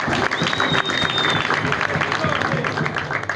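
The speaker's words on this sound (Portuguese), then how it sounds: "Aí o veterano, Rijuro, é uma salva de palmas" An audience at a capoeira graduation ceremony gives the veteran capoeirista a round of applause: steady, dense clapping from many hands, close and loud, lasting the whole stretch.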